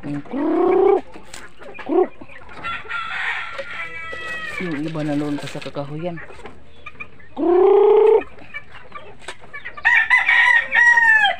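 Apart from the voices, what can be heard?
chickens clucking and rooster crowing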